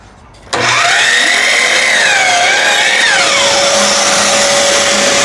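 A power saw spins up sharply and cuts a piece of wood to length, loud and close, its whine sagging and rising under load before settling into a steady high tone.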